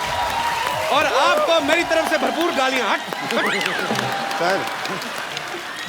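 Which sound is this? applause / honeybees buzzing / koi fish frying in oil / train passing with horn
applause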